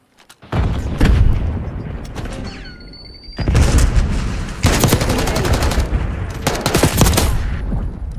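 Rapid bursts of gunfire from a Call of Duty match ring out loud and close in several dense volleys, with a brief lull between them and no talk over it.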